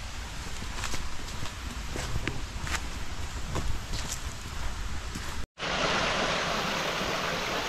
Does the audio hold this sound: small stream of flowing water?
yes